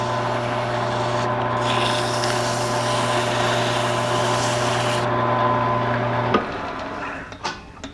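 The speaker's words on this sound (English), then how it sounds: "Do a little light sanding in here." Steady abrasive rubbing of sandpaper against wood spinning on a lathe, with a constant machine hum that cuts out near the end, followed by a few light knocks.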